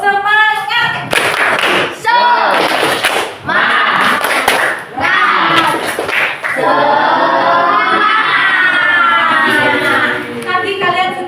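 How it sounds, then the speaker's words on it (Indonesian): A group of schoolchildren in a classroom performs a rhythmic spirit clap, with loud, patterned bursts of clapping mixed with chanting voices and a teacher's speech. "Tepuk semangat."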